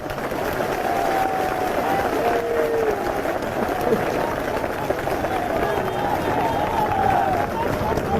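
Dense, sustained applause and clapping from a large crowd at an outdoor political rally, steady and loud throughout, with crowd murmur mixed in.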